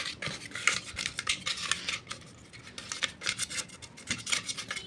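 Paper rustles and rubs against metal as it is pressed into an oiled pressure cooker, giving soft, scratchy, close crinkling in quick bursts with no talk.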